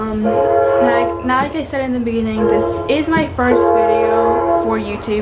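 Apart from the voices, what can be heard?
train horn in the background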